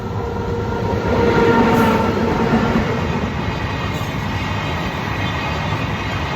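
A train rolls steadily past a railway crossing on the way to a temple, its dense wagon rumble and rhythmic wheel clatter loud and close for the whole stretch, with no talking.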